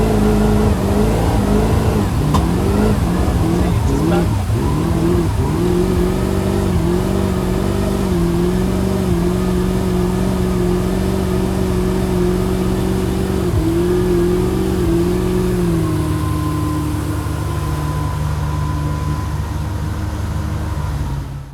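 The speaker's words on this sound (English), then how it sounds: "let's review what the boat was actually doing when it was stalling and bucking" Mercruiser boat engine running rough, stalling and bucking, with a steady loud drone broken by repeated stumbles and surges before it settles to a lower, thinner idle near the end.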